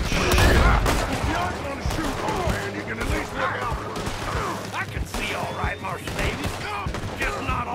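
Dense gunfire from the video game Red Dead Online, rapid overlapping shots and rattling bursts running nearly nonstop, with people talking over it.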